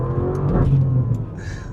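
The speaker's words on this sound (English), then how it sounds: "you can turn everything up to Corsa mode and then have sound and the instant performance" A seven-year-old Lamborghini Urus engine revving in Corsa mode, a loud, close, steady growl that swells briefly and then eases off, with no talking.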